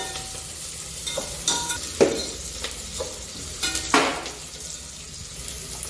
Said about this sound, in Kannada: ಸ್ವಲ್ಪ ಈರುಳ್ಳಿ ಎಣ್ಣೆಯಲ್ಲಿ ಬೇಯಬೇಕು